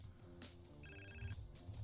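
Ringtone-style electronic phone ring from the video game GTA San Andreas, a steady tonal chirping pattern over busy game background sound, moderately loud throughout.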